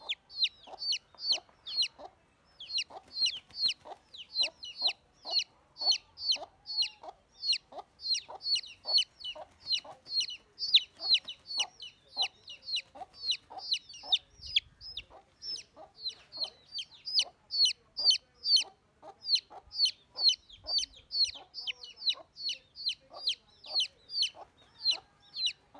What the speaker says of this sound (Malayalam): അതാണ് കോഴി കൊത്തും നമ്മളെ